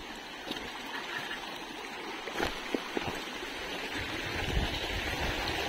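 A stream rushes past during a Yamaha motorcycle group ride, a steady broadband wash of flowing water with a few soft knocks, swelling slightly louder toward the end.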